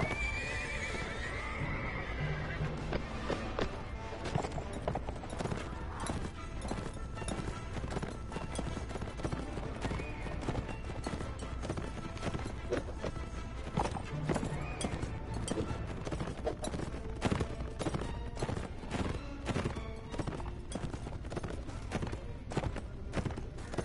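Horse hooves clip-clop steadily alongside repeated whinnies and neighs from a mount in the video game Mount & Blade: Warband, loud and continuous over a dense backdrop of game sound, with no talking.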